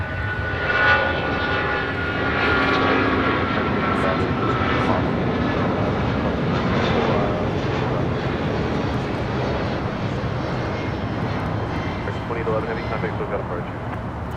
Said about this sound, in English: 2811 taking off to Dallas-Fort Worth on a 777-200 ER